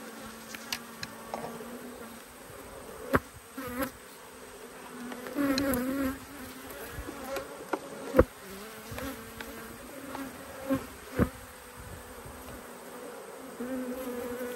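Honey bees buzz steadily at an open hive in an Australian beekeeper's yard, a continuous close insect drone swelling now and then as individual bees pass near, with occasional soft knocks from handling the hive box.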